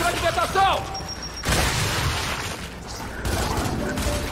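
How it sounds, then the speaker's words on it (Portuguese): A frag grenade blows up in the Gears 5 video game: one loud, close blast followed by a rumbling, clattering tail, with players talking over the in-game noise around it. "Granada de fragmentação!"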